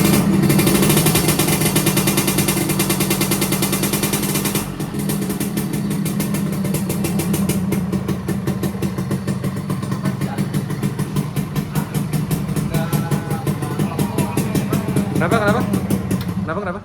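A Suzuki Satria two-stroke motorcycle engine runs steadily up close, a loud continuous drone with a rapid pulsing beat, and voices are heard faintly under it.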